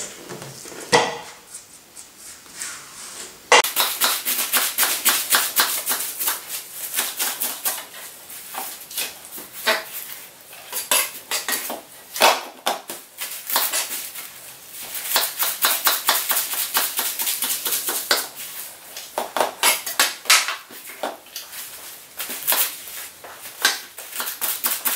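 Chopped wild garlic dropped into a blender bowl in a home kitchen, a long run of close, sharp taps, knocks and light clattering of leaves and utensils against the bowl, with no talking.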